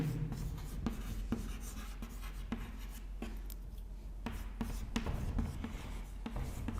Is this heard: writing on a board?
yes